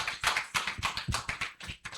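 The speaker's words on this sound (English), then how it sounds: "Please, a warm round of applause for all my panelists." Quick, rapid clapping from a small audience applauding panelists at a Nigerian book launch dialogue event, a brief close patter of hand claps with no voices.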